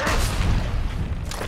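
A heavy booming cannon blast in the video game Diablo 3: Reaper of Souls fills the short moment, a deep rumbling explosion, with a sharper crack near the end.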